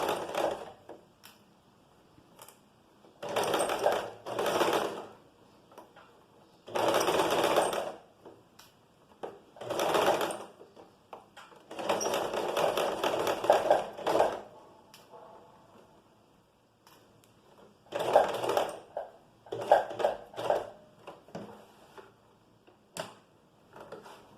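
A sewing machine stitches a seam on a top in a fashion sewing class, running in short bursts of a few seconds each with quiet pauses between, close and loud.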